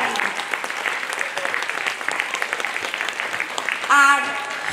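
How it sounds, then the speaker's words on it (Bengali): An audience applauds at a dance and drama program, with dense, steady clapping throughout and a brief voice rising over it near the end. "সবার জন্য একটা বড় হাততালি"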